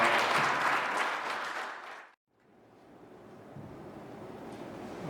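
Applause from a Korean study-group audience at a year-end gathering, loud dense clapping that fades out abruptly after two seconds, followed by a quieter low rumble of room noise.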